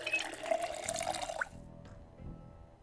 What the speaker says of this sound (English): Let's fill up our water.